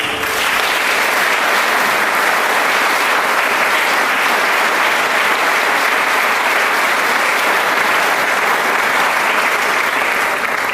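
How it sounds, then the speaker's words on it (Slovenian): Loud, sustained applause from a large audience at a Slovenian singing event, even and continuous clapping filling the whole stretch with no talk over it. "vsi si zaslužimo resnično en velik aplavz"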